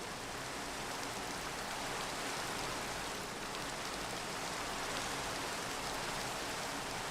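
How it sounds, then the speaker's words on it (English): Steady rain falls in a video game world at night, a soft, even hiss that holds constant throughout without pauses or voices. "I gotta get rid of the rain."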